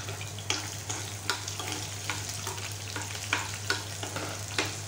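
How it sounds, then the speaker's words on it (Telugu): Coriander seeds fry in hot oil for a Telugu drumstick curry, a constant close sizzle punctuated by regular scraping stirs every half second or so, with no talking. "ఆయిల్ కాస్త హీట్ అయిన తర్వాత 1 టేబుల్ స్పూన్ ఆఫ్ ధనియాలు వేసుకొని ఫ్రై చేసుకోవాలి"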